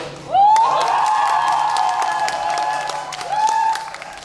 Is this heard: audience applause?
yes